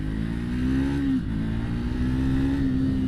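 A Triumph Speed 400 motorcycle accelerates hard, its engine note climbing, dipping at a gear change, then rising again, loud and close throughout.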